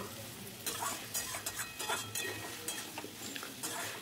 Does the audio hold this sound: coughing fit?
no